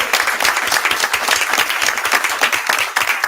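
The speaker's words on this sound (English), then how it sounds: "Y'all give our teachers a round of applause." A crowd at a city Board of Aldermen meeting breaks into steady, fairly loud applause for teachers, many hands clapping continuously for a few seconds.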